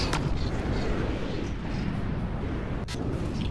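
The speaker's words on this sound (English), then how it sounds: "So we have a huge barrage of missiles going up to this glider" Missiles fire in a huge barrage in From The Depths, a dense, continuous roar of launches and rumbling blasts with a few sharper pops cutting through.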